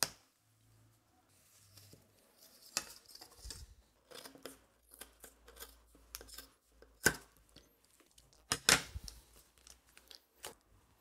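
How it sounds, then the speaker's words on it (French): Climbing skins for ski touring being cut to size with scissors, giving a run of sharp snips and crisp slicing strokes that come close and clear in irregular bursts, with quiet handling rustle between cuts. "Et maintenant, c'est le moment de faire la coupe."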